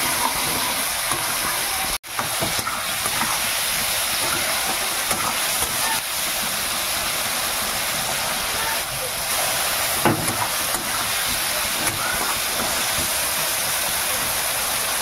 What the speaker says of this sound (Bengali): টমেটোগুলো একটু ভাজা ভাজা মতন হয়েছে